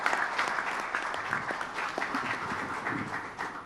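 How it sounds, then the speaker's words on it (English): Warm audience applause at the close of a panel discussion on solar energy in India, many hands clapping continuously at moderate distance, fairly quiet and sustained across the whole stretch. "let's give them a very warm round of applause"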